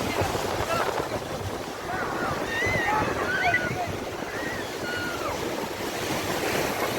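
Sea waves roll and wash ashore at Kovalam beach in a continuous loud surf rumble with wind buffeting the microphone, while voices are faintly heard over the water.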